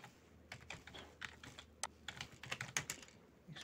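Rapid, uneven clatter of keys on a computer keyboard as text is typed into a Microsoft Word document, close and crisp, with no speech over it.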